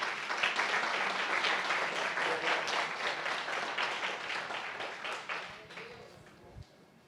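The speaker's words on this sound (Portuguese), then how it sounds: "Dá uma salva de palmas para Jesus." A church congregation applauds together during a worship service, a broad wash of many hands clapping in a reverberant room, fairly distant, gradually thinning and fading out over several seconds.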